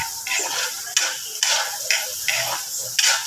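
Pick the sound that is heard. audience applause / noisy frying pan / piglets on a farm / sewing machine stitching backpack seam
noisy frying pan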